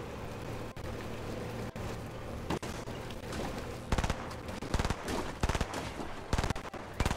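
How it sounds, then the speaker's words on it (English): Bursts of automatic gunfire in the video game Fortnite, rapid volleys crackling in clusters over a steady background of game music and engine drone, growing denser and louder toward the end. "He's shooting at someone."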